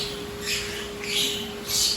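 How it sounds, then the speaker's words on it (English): Pet birds kept at a home in Subic Bay chirp in three short bursts spaced about half a second apart, moderately close, over a steady low hum. "Shut those birds up."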